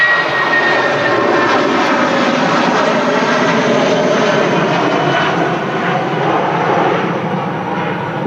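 Emirates Boeing 777 jet at Manchester Airport, a loud, steady engine roar with broad rushing noise that holds evenly throughout, close and unbroken.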